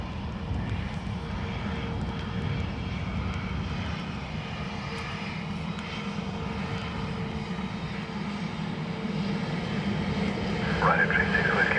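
A Ryanair airliner landing at Dublin Airport, its engines a steady broad roar heard from a distance without pause, with voices talking over it.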